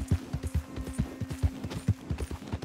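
Horse hooves clip-clopping at a steady riding gait in Red Dead Redemption 2, rhythmic thuds repeating through the clip, with a faint sustained tone in the background.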